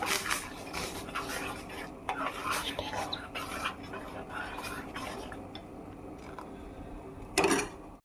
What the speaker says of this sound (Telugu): ఇదిగోండి తిప్పుతూ ఉన్నానండి, ఎందుకంటే అడుగంటుతుంది సబ్బియ్యము